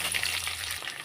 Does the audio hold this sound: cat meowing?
no